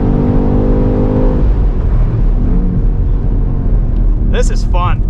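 A 2024 BMW X6 M Competition SUV drives with a steady, loud engine and road drone throughout, a low harmonic hum easing after the first second, then a brief high chirp near the end over the constant rumble.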